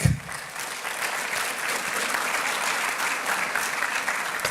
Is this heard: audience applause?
yes